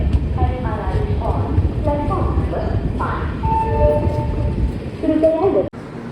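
Nagpur to Mumbai CSMT Sevagram Superfast Express (12540) halting at a station platform, with train rumble under a loud public-address arrival announcement and other voices, ending in a sharp clunk.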